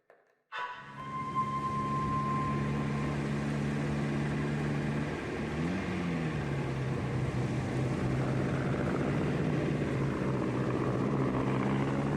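Aeroplane engine in The 39 Steps PC game, a steady loud droning hum with harmonic tones that starts abruptly and holds for the whole stretch, briefly wavering in pitch as if passing overhead.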